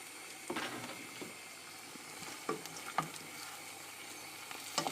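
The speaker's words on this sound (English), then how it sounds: "we can now add some of the stock" Stock poured in stages into a mushroom risotto sizzling in a pan, stirred with a few scraping strokes against the bottom; soft steady sizzle with occasional clinks and stirring bursts, close by, no talk.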